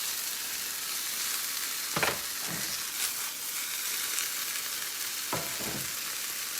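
A jalapeño popper omelet with cream cheese sizzles in a cast iron pan, a steady close hiss of frying broken by a few soft scrapes of a utensil.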